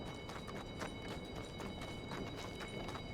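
Horse hooves clip-clop in Red Dead Redemption 2 in a steady, continuous rhythm, with a brief whinny, close and alone with no talk over it.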